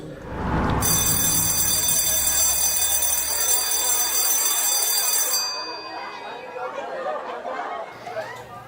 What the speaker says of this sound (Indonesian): tak lama dari itu, bel sekolah pun berbunyi